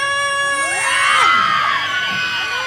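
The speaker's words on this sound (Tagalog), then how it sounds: "Sasalubungin natin ang bagyo na may saya at dasal, kaya't isa pang hiyawan!" Loud crowd cheering and shouting at a national costume parade pageant in Cabanatuan City, Nueva Ecija, with children's high-pitched shrieks and whoops rising and falling over a sustained roar, no distinct speech.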